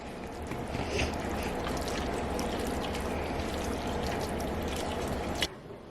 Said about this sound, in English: While our mixture is simmering